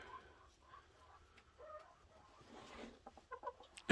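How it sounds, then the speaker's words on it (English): Jubilee rooster clucking softly, a few short low calls and faint scratchy sounds close by and quiet, ending in a sharp louder burst. "There's my Jubilee rooster."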